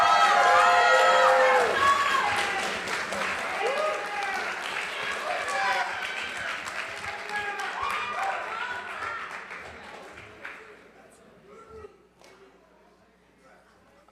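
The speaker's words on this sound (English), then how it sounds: "we applaud these" Applause sweeps through an audience at a film screening as finalists leave the stage, with cheering and chatter layered into the dense clapping, which thins out and fades toward the end.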